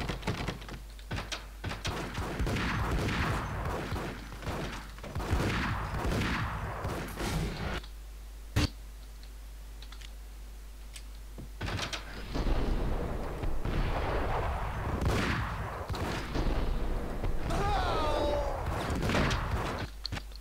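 Gunfire from the video game Max Payne, with repeated sharp shots and bursts, some in rapid clusters and one standing out as a loud isolated crack, set against a low in-game background hum.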